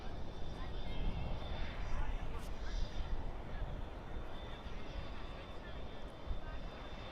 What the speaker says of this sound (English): Asiana Cargo right now taxiing right there in front of your guys' screen